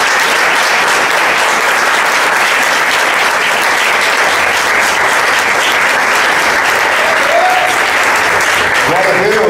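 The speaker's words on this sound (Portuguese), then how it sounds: "Dê uma salva de palmas ao Senhor." A church congregation claps loudly and continuously during a service, a thick, sustained roar of hands with voices faintly audible through it and some rising cheers toward the end.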